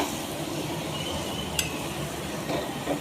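Gram flour stirred and sautéed in a pan for Vidarbha-style patwadi rassa, a steady close sizzle with a few soft scrapes of the spoon, no talking.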